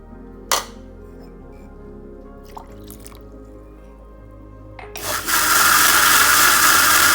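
An electric mixer grinder switches on to grind semolina (rava) batter into a smooth paste. After a quiet stretch with a couple of small knocks, the motor starts with a loud, steady whirring roar.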